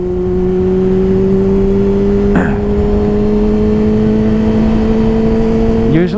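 A Yamaha R6 motorcycle pulls hard with a loud, steady engine whine, briefly dips as it shifts up into third gear, then climbs again under constant wind roar, with a second shift near the end.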